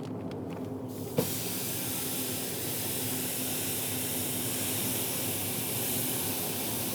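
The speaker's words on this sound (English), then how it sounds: "The flank's gonna come straight out of the marinade and onto the grill." Marinated flank steak lands on a hot pellet grill, and a sudden burst of sizzle settles into a loud, even hiss that holds steady throughout.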